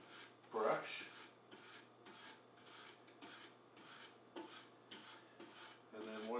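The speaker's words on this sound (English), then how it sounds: "once I've gone over this with the soft brass brush" A soft brass brush scrubs the varnished top of a Singer 301A sewing machine in a series of rhythmic rasping strokes, about ten close, dry back-and-forth scrapes over a faint steady hum.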